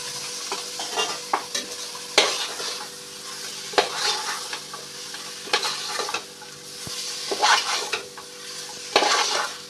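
Chicken biryani masala frying in oil and being stirred, with a steady sizzle and repeated scraping spoon strokes against the pan coming in uneven bursts, close and loud with no talking.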